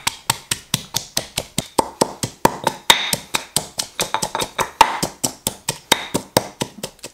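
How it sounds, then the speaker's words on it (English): Garlic and red chili peppers are pounded in a fast, steady rhythm of sharp, close taps, dozens of strikes in a row without talking. "we're gonna mash up some garlic and some red chili peppers"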